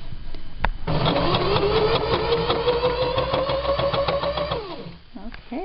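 A needle felting machine fitted with five needles starts up and runs with a rapid mechanical chatter and rising whine, steady and close for several seconds, then winds down to a stop.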